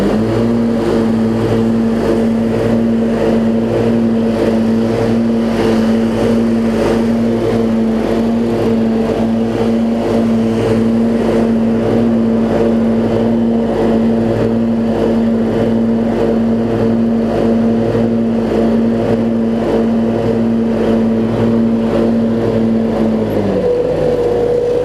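MTD LT1442 hydrostatic riding mower engine running with its blades turning, a loud, steady, close droning hum that holds constant and then drops in pitch near the end.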